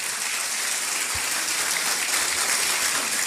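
Applause for Néstor at a team opportunity meeting in Guadalajara, a steady wash of clapping from a crowd holding at even loudness throughout, with no talk over it.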